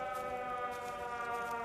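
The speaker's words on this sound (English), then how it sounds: "right now we're hearing this air raid siren thing" An air raid siren wails in the video game Everybody's Gone to the Rapture, a steady layered tone that stays loud and sustained throughout.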